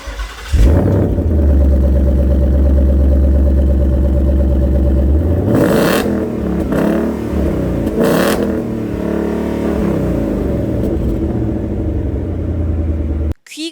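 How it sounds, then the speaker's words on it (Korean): A 2020 Ford Mustang GT convertible's 5.0 V8 fires up into a loud, deep idle rumble, then revs hard twice in quick succession before dropping back to a throaty idle. "오늘은 배기음부터 듣고 시작합니다."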